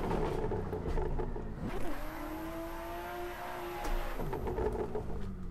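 A car engine with 840 horsepower on full boost revs in the racing game Assetto Corsa during drifting. A sharp rev rises, holds a steady whining note, then rises again, loud and alone.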